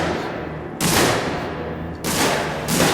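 Sustained bursts of automatic gunfire from a guard in the video game Alien Isolation, loud and close, coming in long rattling volleys with brief dips between them.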